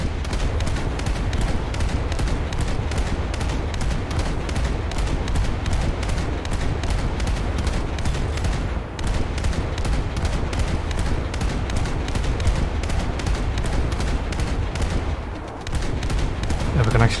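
Warship guns firing at enemy AI in a naval video game with a US coastal ship, a rapid steady barrage of sharp shots repeating without pause, loud and close throughout.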